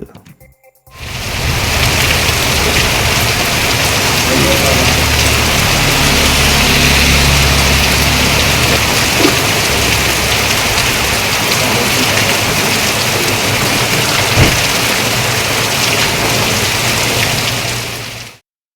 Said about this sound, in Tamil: திடீரென பெய்த மழை காரணமாக குளிர்ச்சியான சூழல் நிலவியது